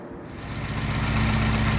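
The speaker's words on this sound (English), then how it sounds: "Okay, so I've got this engine back running again." A car engine with flat top pistons, running after ignition tuning: steady idling rumble with a slightly knocking, vibrating throb, close and loud, rising briefly at the start and then holding even, with no talking.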